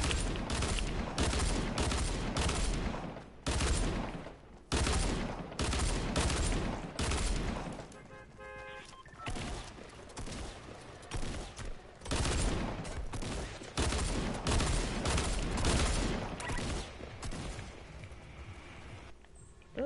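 Double pistols firing in Fortnite, rapid bursts of sharp, loud shots in quick succession, with brief pauses between volleys and a short tonal game sound partway through.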